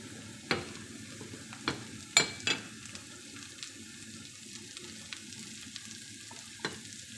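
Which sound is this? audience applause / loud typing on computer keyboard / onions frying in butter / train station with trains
onions frying in butter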